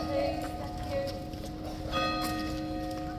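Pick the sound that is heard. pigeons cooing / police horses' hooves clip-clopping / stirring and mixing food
police horses' hooves clip-clopping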